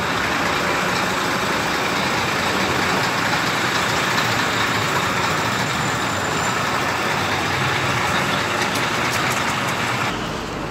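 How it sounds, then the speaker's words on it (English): A city bus on a street in Geneva, Switzerland, rumbles steadily close by, a broad engine and traffic drone holding at an even level throughout with no voices. "this is what one of their buses looks like here in Geneva"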